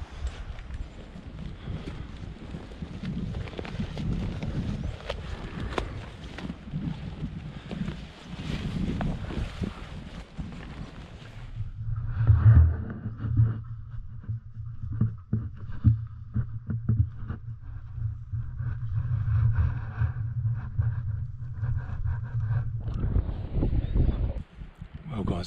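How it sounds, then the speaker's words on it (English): Wind blowing down mountain gullies in the Kaweka Range during a winter sika deer hunt: a broad, gusty rush up close on the microphone for the first ten seconds, then easing to a low rumble beneath a man's quiet speech. "Wind is blowing down these gullies."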